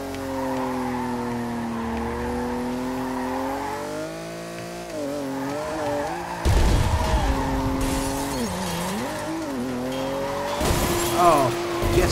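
A car in the racing video game Ridge Racer Unbounded drifts with its tires skidding. The engine drones loudly and its pitch rises and dips, with a rougher burst of tire scrub near the middle and again near the end.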